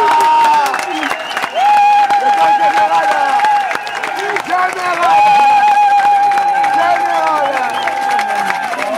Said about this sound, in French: je vous invite vraiment à vous lever et à l'applaudir